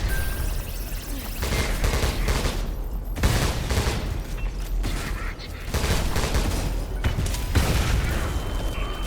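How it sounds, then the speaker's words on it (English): A frag grenade explodes amid dense, continuous combat noise in the sci-fi shooter game Selaco, with booming bursts and gunfire-like clatter filling the whole stretch at a steady, loud level. "That was a frag grenade."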